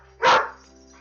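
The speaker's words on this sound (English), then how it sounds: "Got mugged by the dogs." A single short dog bark, close and fairly loud, over a low steady background hum.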